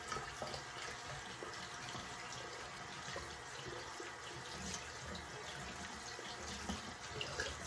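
Tap water running while a shaving brush is rinsed in a sink, a faint steady splashing that holds through the whole stretch with no talk.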